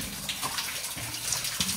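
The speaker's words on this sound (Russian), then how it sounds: "Водопадик. Это старинный деревянный слив" Water pours from an old wooden drain inside a tunnel, a steady splashing trickle that stays moderately close and even throughout, with no talking over it.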